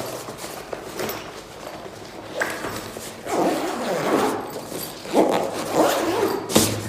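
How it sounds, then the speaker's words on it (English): A padded nylon carry bag being zipped shut, with several close, raspy zipper pulls in short bursts, louder toward the end. "And you just zip it up."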